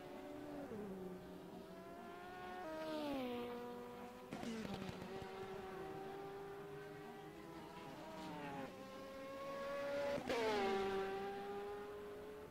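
GT race cars at the Le Mans 24 Hours roaring past in quick succession, engines whining up and dropping in pitch as each one passes, several cars one after another, loud and continuous.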